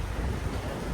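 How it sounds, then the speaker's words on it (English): Strong wind buffets the microphone on a cruise ship deck in rough sailing weather, a loud, continuous rushing roar with no pauses and no voice over it. "The wind, you won't be able to hear me"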